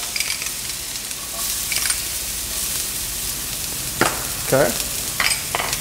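Minced garlic and diced shallot sizzle in a hot pan with chicken while a utensil stirs them, bursts of scraping and clatter over a constant fry, with a brief spoken word.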